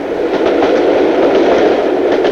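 A train rushing past a level crossing with half barriers on a UK road, a loud, steady roar with rhythmic clickety-clack of wheels, close and continuous throughout.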